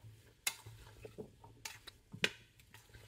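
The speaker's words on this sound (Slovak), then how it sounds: "No a tú papriku nechám restovať asi tak 30-40 sekúnd." Ground spicy paprika sprinkled over vegetables fries in a pot while being stirred, with a quiet sizzle, soft scraping and a couple of sharp utensil clinks against the pot.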